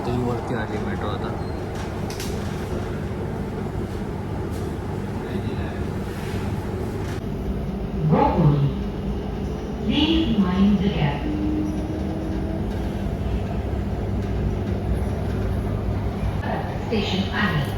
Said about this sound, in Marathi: आता ही वरती आली मेट्रो